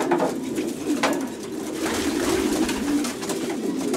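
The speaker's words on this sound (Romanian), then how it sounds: "Acesta este porumbelul." A male racing pigeon of breeding stock coos close by, soft rolling calls repeating over a steady background.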